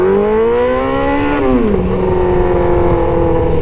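A motorcycle engine revs up steadily while being ridden, then the pitch drops sharply as the rider kicks up a boot-adjusted shifter into the next gear, and the engine settles into a steady, loud, close drone.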